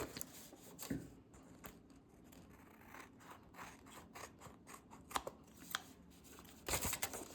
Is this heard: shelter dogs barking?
no